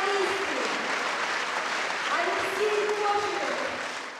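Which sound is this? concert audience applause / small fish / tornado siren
concert audience applause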